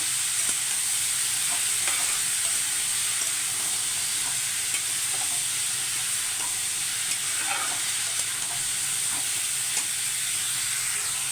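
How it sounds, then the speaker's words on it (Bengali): Karela bhaji, sliced bitter gourd, sizzles steadily in a frying pan, a dense continuous hiss of hot oil with faint stirring clicks, close and even throughout with no talk. "তাহলে হয়ে যাবে আমার করলা ভাজি।"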